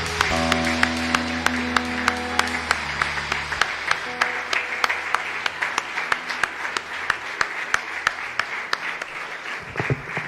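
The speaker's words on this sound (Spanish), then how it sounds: "Dale un fuerte aplauso al Rey." A church congregation at a Sunday service claps in a steady rhythmic beat, first over sustained music that fades after a few seconds, then continuing alone with crisp, regular claps.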